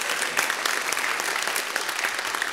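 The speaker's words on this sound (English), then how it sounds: "Round of applause for that guy." Audience clapping at a climate-change behaviour talk, a steady, dense round of applause from a full room, continuous and fairly loud throughout with no pauses.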